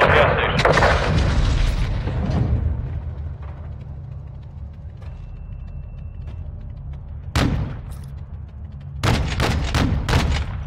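Heavy cannon fire and explosions from an AC-130 gunship in Modern Warfare 2, with loud booming blasts at the start, followed by a rumbling lull and then several sharp bursts of fire near the end.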